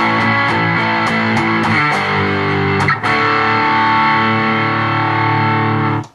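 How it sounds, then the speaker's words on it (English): Heavily distorted electric guitar chord through a Digitech Hotrod pedal and Behringer EQ700 with scooped mids, ringing out with sustained, saturated tone and a brief pick attack midway, loud and continuous. "It's making kind of a scooped effect where the mid-range goes down a little bit"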